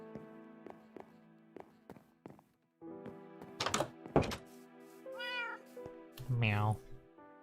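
A cat meows twice in rising, wavering cries near the end, heard over game music and thumps while a person talks.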